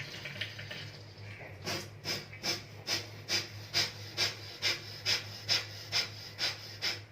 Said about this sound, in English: Start breathing in.